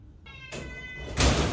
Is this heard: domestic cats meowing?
yes